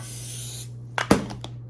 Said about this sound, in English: put some non-stick spray on our pan